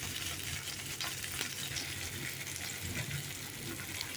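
Chopped capsicum fries in a hot pan under a constant crackling sizzle, with scraping stirs of a spatula at intervals.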